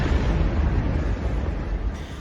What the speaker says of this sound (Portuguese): a violenta explosão foi provocada depois que uma das bombas do sistema de distribuição se soltou